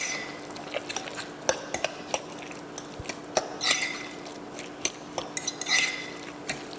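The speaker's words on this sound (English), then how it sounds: "So mix that up in the meat sauce." A utensil stirs mushrooms into meat sauce in a pan: scattered scraping clinks and soft, wet squelches, close by and irregular, with no talking.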